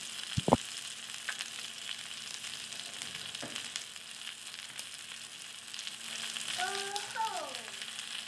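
Tandoori chicken fries in butter in a pan with a steady, close sizzle and a few sharp clicks and taps over it, and no talk.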